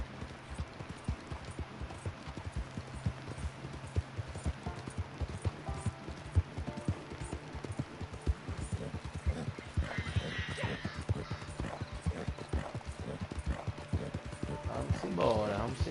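Horse hooves clip-clop steadily on the ground in Red Dead Redemption 2 Online, a continuous trotting rhythm heard close, with someone talking over it.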